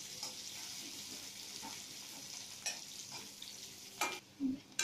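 Garlic stir-frying in a pan over a high flame: a soft, continuous sizzle broken by a few sharp scrapes and knocks of a utensil stirring it, close by and fairly quiet.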